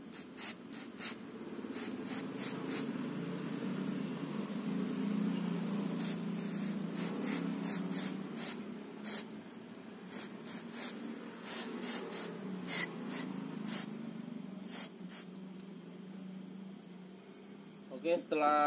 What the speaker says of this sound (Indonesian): yang sensornya ini di bagian sini ini kita bersihkan dengan map sensor cleaner atau cup cleaner juga bisa